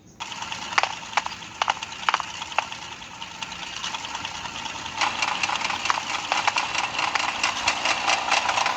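A motorbike engine in the video game GTA 5 gives a rattling, ratchet-like idle with sharp clicks early on, then settles into a louder, denser, steady mechanical clatter.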